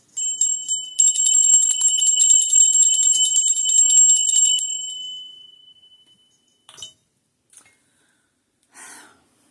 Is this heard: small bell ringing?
yes